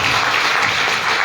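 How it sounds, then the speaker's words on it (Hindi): A seminar hall audience at a wellness company event bursts into loud, dense applause, many hands clapping at once in a continuous, close roar. "एक जोरदार तालियां उनके लिए बजा दीजिए"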